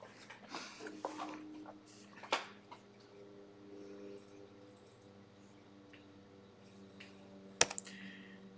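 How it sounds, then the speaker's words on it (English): Computer keyboard typing while entering dimensions into a CAD model, with a few scattered clicks and short bursts of keys against a steady low hum, fairly faint and close, with no talk. "so I'm going to start typing in unit"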